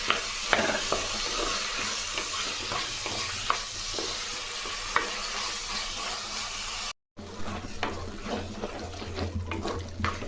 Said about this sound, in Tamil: கறிவேப்பிலை அது நல்லா பழுத்த மூணு தக்காளி இதை நல்லா வதக்கி எடுத்துக்கணும்